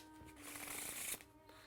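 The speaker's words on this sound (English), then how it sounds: "And shuffling carelessly because I want to show a shuffled manner." A deck of playing cards being shuffled by hand, with a close, continuous riffling flutter lasting about a second before ending in a few soft taps.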